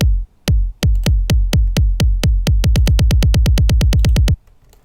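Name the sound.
kick drum roll build-up effect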